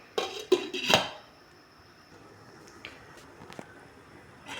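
A metal lid clatters onto a cooking pot of fish soup with lemongrass, a few close clanks followed by faint clicks in a quiet room.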